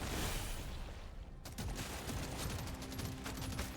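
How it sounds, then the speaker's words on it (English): Dense, continuous rapid-fire gunfire fills the scene as weapons shoot at swarming aliens in the Deep Rock Galactic Survivor video game, loud and unbroken throughout with no talking. "No, stop shooting the aliens."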